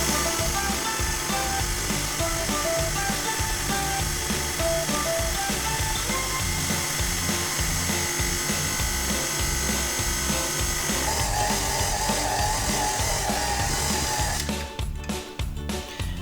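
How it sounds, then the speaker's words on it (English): A stand mixer kneads white bread dough on slow speed, giving a steady, loud, close mechanical whir with a rhythmic clunking thump that runs without a break, then sputters and cuts out near the end. No one speaks. "we're going to mix this for about 8 to 10 minutes on a slow"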